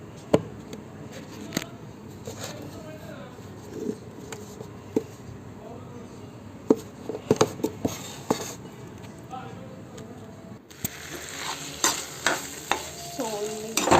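Leafy greens being tempered (oggarane) in a hot pan sizzle steadily while a utensil stirs and scrapes in intermittent clattering strokes, close by and fairly loud.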